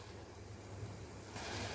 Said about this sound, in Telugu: ఇప్పుడు నీళ్లు మరుగుతున్నాయండి